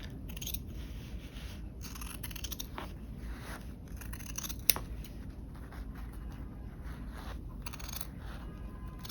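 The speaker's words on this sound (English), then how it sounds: "once we get done trimming this away, we're going to turn the work over" Scissors trim canvas seam allowances while framing a canvas: quiet, scattered snipping and scraping over a faint, steady background hiss, with one sharper click midway.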